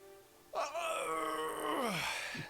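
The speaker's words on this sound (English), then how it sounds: "Try not to yawn." A long drawn-out yawn from a man, rising into a strained moaning tone that holds for about two seconds before trailing off, loud and close with no talk over it.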